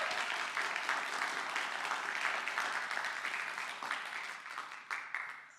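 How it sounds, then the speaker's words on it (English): Sustained audience applause at a TEDx event at Columbia College, a dense wash of many hands clapping together for speakers, steady throughout and thinning slightly toward the end. "Let's also give them a really big round of applause for what they've done."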